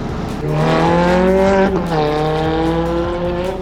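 Fast car powering through a right-left chicane on the Top Gear test track, engine note loud and close, climbing in pitch, dipping briefly as the throttle eases, then rising strongly again with no talk over it.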